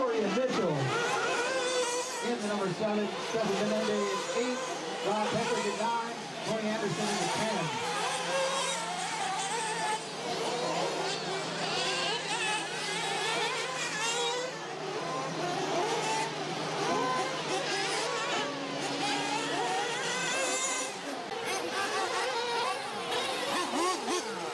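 Off-road race truck engines roar and rev during qualifying at Full Throttle Raceway, a dense, continuous motor drone with rising and falling pitch sweeps, while a commentator talks over the noise throughout.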